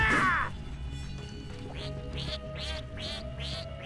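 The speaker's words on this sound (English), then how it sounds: "I love those ducks so much" Cartoonish ducks from the MapleStory 2 game quack in a steady run of four or five calls after a short crash-like burst, each call clear and close over a low, busy game backdrop.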